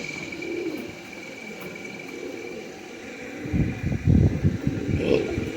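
Soft pigeon coos rise and fall against a steady background hum, with some low rustling and shuffling toward the end.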